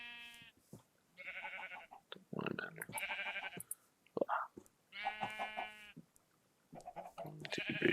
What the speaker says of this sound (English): We're going to go back out and we're going to look for some sheep.